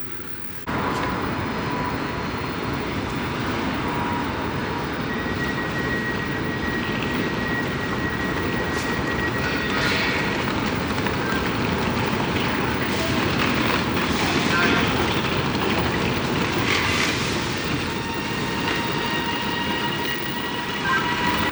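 Steady, loud rumble of a passenger train in motion, heard from inside the carriage, with faint rhythmic rail clatter and occasional squeals running continuously throughout.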